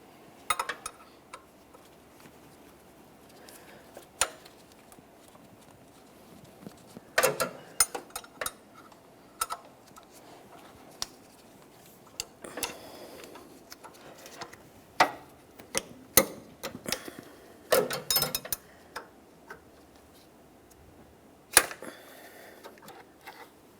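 Tools work on the serpentine belt tensioner bolts of a 2012-2015 Honda Civic 1.8L I4, with scattered ratcheting clicks and metallic taps in irregular bursts against a quiet background.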